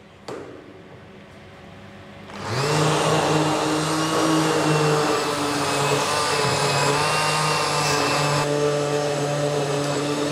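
An onion and squash soup is coarsely ground in a blender, starting after a quiet moment with a loud motor whir that holds a steady droning pitch for several seconds, close and alone.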